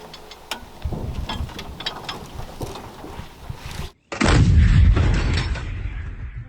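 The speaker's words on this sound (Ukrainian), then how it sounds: "Коли стріляє гармата, ти знаходишся в такому полум'ї, скажімо, в кулі, в такій полум'яній, грім, вітер." An aging 5-tonne 152 mm artillery gun fires in the open with a single heavy, booming blast after a stretch of rumbling background noise, the low roar lingering for a couple of seconds.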